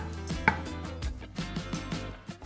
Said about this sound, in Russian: Зеленый лук просто нарезаем на мелкие кусочки.